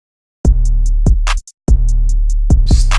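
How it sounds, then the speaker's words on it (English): A sharp clap sample snaps on the backbeat over a heavy, looping bass drum pattern from an instrumental remake, with a short silent gap midway. "and now we're just gonna add the clap."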